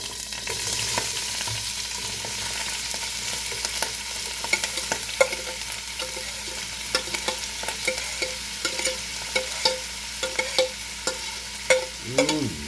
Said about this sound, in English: Our grease is hot, nieces and nephews. Now I want you to stand back when you put this in.